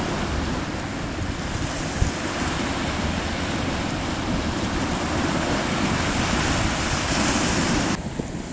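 A small fishing boat motors hard through big sea waves in strong wind, its engine drone buried under constant loud surf and wind buffeting the microphone for the whole stretch, with a brief thump near the middle.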